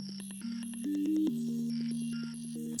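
A Serum synth sound in FL Studio processed by Shaper Box, which pans and stutters it: bright, buzzy sustained notes with choppy, pulsing gating and shifting pitches, played loud and alone.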